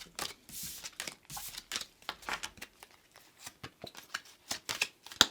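Tarot cards from a dragon-themed deck riffled and shuffled by hand, quiet and close, in quick irregular bursts of papery flicks with soft pauses between; no one speaks.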